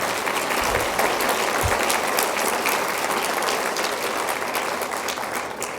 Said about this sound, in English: About a big round of applause for Alicia also.